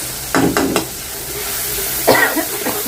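Ginger, garlic, green chilies and onion fry in a pan, a continuous sizzle broken by bursts of spoon-stirring scrapes, close and fairly loud.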